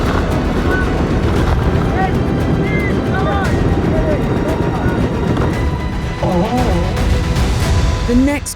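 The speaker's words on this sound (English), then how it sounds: "the wind and the seas were still quite strong" Strong wind and heavy seas aboard a racing sailboat in the eastern Aegean make a constant loud roar of gusts and rushing water, with faint voices now and then.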